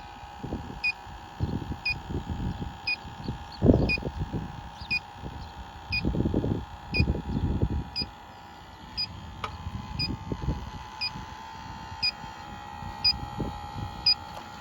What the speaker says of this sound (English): let's fire up the leak detector